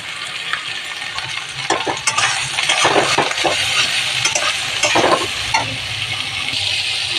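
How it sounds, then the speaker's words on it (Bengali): Soybean chunks frying in oil in a pan, a continuous sizzle broken by scraping and clinking of a spatula as they are stirred, close and fairly loud, no talk. "সয়াবিনটা ভাজা হচ্ছে"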